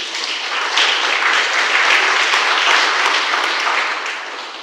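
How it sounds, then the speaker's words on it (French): Steady, dense applause from a seated audience at a French-language talk on tourism in Madagascar, sustained evenly for several seconds and tapering slightly at the end, with no talk over it. "Tu peux l'applaudir"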